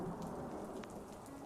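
Heavy rain hisses steadily with a low rumbling undertone of thunder on a rainy day, a continuous, fairly quiet wash of sound with no voices.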